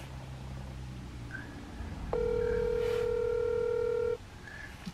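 A telephone call ringing out unanswered: a single steady electronic ring tone lasting about two seconds, heard over faint background hum with no one speaking.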